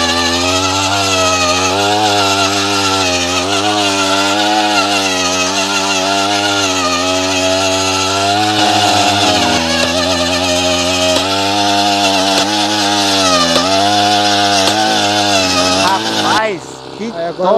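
A motorized coffee harvesting machine starts at once and runs steadily, a loud, close, chainsaw-like two-stroke engine drone with a wavering pitch for about sixteen seconds before cutting off abruptly.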